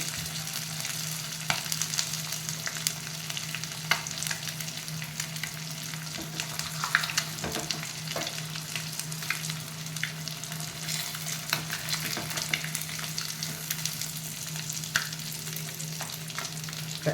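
Fish pieces deep-frying in hot oil give a steady, continuous sizzle with occasional soft crackles and spatters, heard up close on their own for the whole stretch, with no voices.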